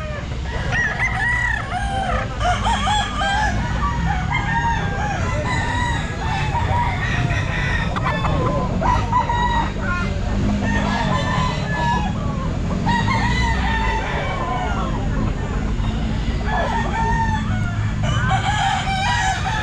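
Stag roosters crow over and over at a busy pet market, with loud overlapping cock-a-doodle-doos and clucks from several birds nearby, layered over constant crowd and market din.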